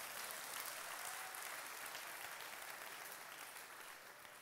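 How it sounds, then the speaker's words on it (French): An audience applauds steadily, a soft, fairly distant wash of clapping that holds evenly and tapers slightly toward the end. "Ceux qui ne sont pas jaloux, est-ce que vous pouvez l'applaudir?"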